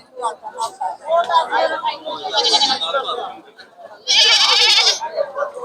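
A goat bleats loudly several times, including a long wavering cry near the end, amid chattering voices at a crowded outdoor cattle market on a school field in Moulvibazar, Bangladesh.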